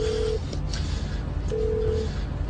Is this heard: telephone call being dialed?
yes